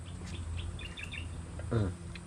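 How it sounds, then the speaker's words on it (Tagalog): Small birds chirp in short, light bursts near a mulberry tree outdoors, faint tweets over a steady low background hum, with one louder call near the end. "Kumbaga hindi ka na kailangan pumunta ng gubat para makarinig ka po ba ng huni ng ibon."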